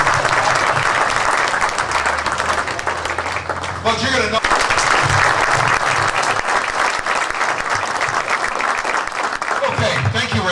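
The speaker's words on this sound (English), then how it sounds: "You all need a round of applause for all the help you gave us." Crowd at a fire company's 125th anniversary and truck housing celebration applauding the helpers, loud sustained clapping from many people lasting throughout, with a voice briefly speaking over it.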